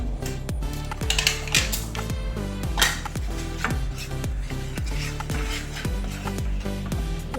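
A spoon stirs paneer butter masala ingredients in a pan, giving steady rhythmic metallic scrapes and clinks, close and clear with no talking.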